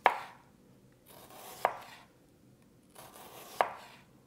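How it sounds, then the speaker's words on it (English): A knife cuts a red onion into thin slices, with three crisp, separate thunks against the board, spaced a couple of seconds apart and close by, with no talk. "Just want to cut it like so into thin slices."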